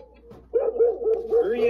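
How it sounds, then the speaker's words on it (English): A dog barks while following someone running through dry leaves: a run of close, yelping barks and whimpers that begins after a short quiet stretch and keeps up steadily to the end. "the dog that's following behind you, barking while you run through the dry leaves, Bert."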